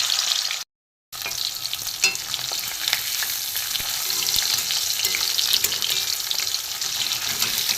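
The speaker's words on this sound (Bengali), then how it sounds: "এখানে এই যে বাঁধাকপি আর ডিমের যে ভাপিয়ে নিয়েছি, এইটা আমি একটা একটা করে ভেজে নেব।" Steamed cabbage and egg pieces frying in hot oil, a dense, steady hiss and crackle heard close, with a short silent gap near the start and no talking.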